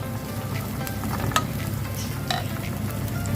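Lots of garlic browning in hot oil for squid adobo gives a steady, close sizzle with faint stirring scrapes and light clinks, and no talking.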